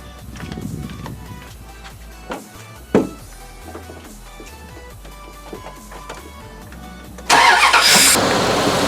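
A distributor-based V8 engine cranks with a few uneven turns, then catches and fires up at about seven seconds into a loud, steady running roar, heard close with no talking.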